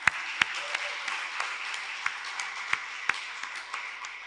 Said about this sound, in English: And another round of applause for our guest speaker,